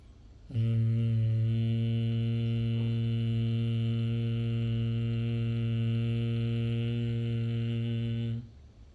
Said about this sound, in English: take a deep breath and hum without opening your mouth